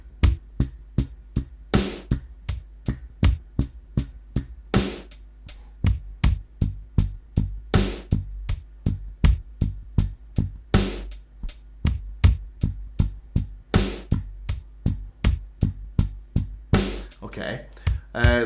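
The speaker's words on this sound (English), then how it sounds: "which sounds like this. I'll put it on with the drum machine." Drum machine repeats a steady, fast rhythmic figure of punchy kicks and crisp hits, looping evenly for the whole stretch with no voice over it.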